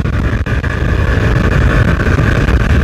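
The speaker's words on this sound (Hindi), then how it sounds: "बहुत ही जोर से हवा चल रही है" Heavy, steady roar of wind buffeting the microphone as a motorbike runs at full throttle above 90 km/h, loud and constant with a deep low rumble throughout.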